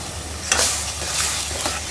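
Meat sizzles in oil with turmeric, chili, coriander, cumin, ginger-garlic paste and tomato paste for a curry, a steady close frying hiss broken by a couple of stirring scrapes.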